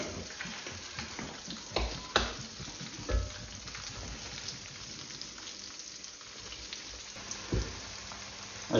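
A batch of chilli beef frying in very hot oil, a steady, fairly quiet crackling sizzle with occasional sharper pops and spits.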